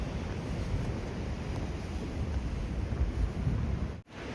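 Ocean waves break steadily beneath a high glass-floored observation deck on the coastal trail at Samcheok, a continuous low rushing wash mixed with gusting wind on the microphone, with no voices, then a brief dropout near the end.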